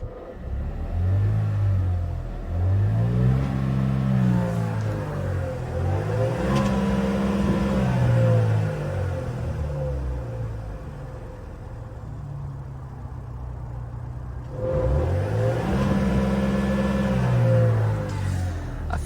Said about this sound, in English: Let's give it some revs now.